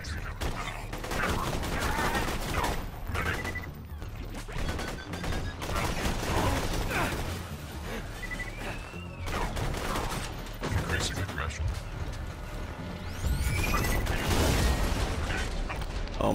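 Rapid gunfire from weapons in the video game Borderlands 2, bursts of shots and mechanical clatter running throughout at steady loudness, with a voice speaking now and then over the action.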